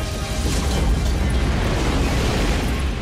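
Explosion from the Independence Day film, a loud, sustained roaring blast with dense low rumble and crackling debris filling the whole moment without a break.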